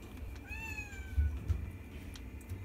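A single cat meows once, clear and nearby, a rising-falling cry over quiet room noise with a few soft bumps.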